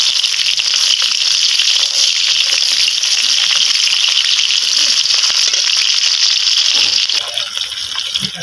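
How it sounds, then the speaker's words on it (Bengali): Steady, loud sizzling of chopped onion frying in hot oil, a dense continuous hiss that eases slightly near the end, with no voices. "দেখুন, পেঁয়াজটা আস্তে আস্তে ভাজা হয়ে গেছে"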